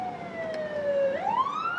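A police car siren, a loud near wail that slides down in pitch and then sweeps back up, alone over low road noise.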